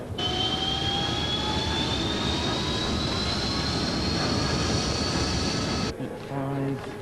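Harrier jet engine roaring loud and steady at close range with a rising whine, cutting off abruptly near the end to leave a quieter low hum.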